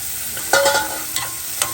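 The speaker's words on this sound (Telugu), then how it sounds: "ఇప్పుడు కలుపుకోవాలి కూరలు అంటే పచ్చలు ముక్కలు" Chopped vegetable pieces stirred into curry frying in oil, giving a low steady sizzle with a few brief scraping strokes of the spoon, close and alone.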